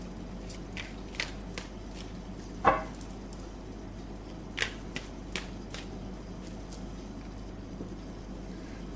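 Tarot cards are shuffled and drawn by hand, giving soft, sparse papery flicks and slaps at irregular intervals, with one sharper snap, all faint over a quiet room hum and no talking.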